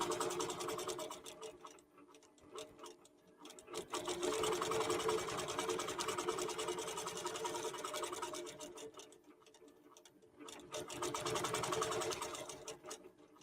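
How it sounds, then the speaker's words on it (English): A Qbot automated quilting machine stitches a quilt with a rapid, steady mechanical chatter that pauses briefly and then resumes, running loud and alone. "One of the things that you see when Qbot's quilting here is you just see the precision that is inherent in Qbot"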